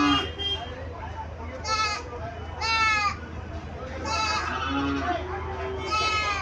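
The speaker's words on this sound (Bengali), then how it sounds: "এখানে কিছু ব্ল্যাক বেঙ্গল ছাগল দেখা যাচ্ছে" Several Black Bengal goats bleating in repeated short, wavering calls at a market in Comilla, close by, mixed with steady background crowd and talk.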